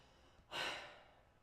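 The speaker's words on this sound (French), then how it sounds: "Légèrement essoufflé, tu vas dire." A person heavily winded after doing burpees lets out one loud, breathy exhale that swells suddenly and fades slowly, close and alone with no talking.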